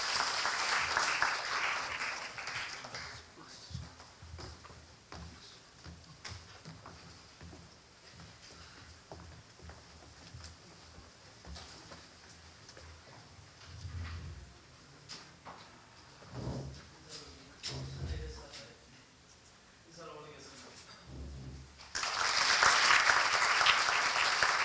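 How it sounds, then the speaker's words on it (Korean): An audience at a Korea University dialogue event claps warmly to welcome two professors, with a loud burst of applause at the start, a quieter stretch of shuffling and footsteps, then applause swelling again at the end. "박수로 맞이해 주시기 바랍니다"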